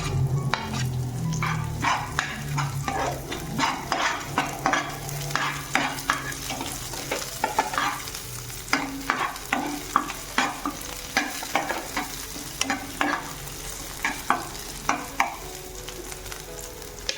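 Green chillies fry and sizzle in a hot pan, with a utensil stirring and scraping in repeated close knocks over a steady crackle; no one speaks.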